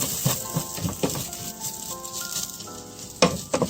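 Rice sizzles in a pot as it is stirred and coated in fat while toasting, a steady crackling fry broken by soft scraping stirs and occasional clacks of the utensil against the pot, close and continuous, with no talking.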